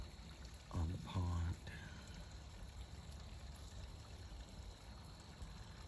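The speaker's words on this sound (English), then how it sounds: "You can hear the little waterfall" A small waterfall trickling beside a pond outdoors gives a faint, steady wash of running water throughout, with a brief voice-like sound near the start.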